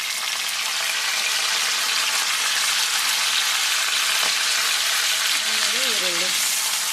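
Mustard oil with cumin seeds and curry leaves sizzling in a pan, a loud continuous frying hiss close up, with a brief voice near the end.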